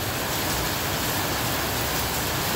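Very heavy night rain pours over Batam city as a dense, loud, unbroken roar of broadband hiss, close and steady throughout without talking.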